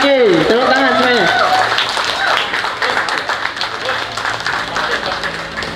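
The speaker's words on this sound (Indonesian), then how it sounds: "Tepuk tangan semuanya." Audience applause at a youth discussion event with the Sambas regent, a broad wash of clapping running throughout under a loud voice speaking over it.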